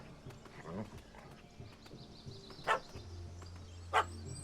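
Dog barking in The Witcher 3 game, a couple of sharp, distinct barks at a moderate distance over quiet ambient game sound and low murmuring.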